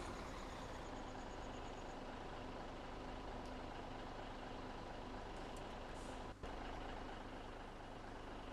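A truck engine in a farming video game runs in a loud, steady drone, with a faint string of reversing beeps at the start.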